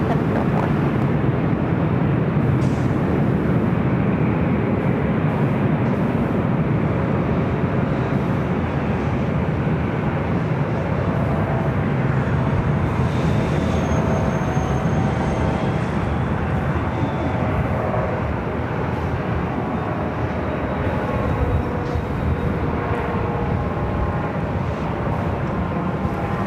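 An Aer Lingus airliner arriving at LAX makes a steady, broad jet roar with wind buffeting, sustained and fairly loud for the whole stretch with no pauses.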